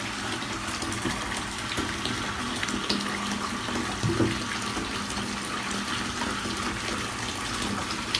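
Water runs steadily into a bathtub while a bath bomb mold is rinsed out, a constant close rushing wash with a brief splash partway through and no talking.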